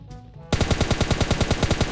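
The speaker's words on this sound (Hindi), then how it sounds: "यहां से फायरिंग तो कर रहे थे ये लोग" Video game gunfire starts after a brief quiet moment and becomes a loud, close automatic burst of rapid, evenly spaced shots that keeps going to the end.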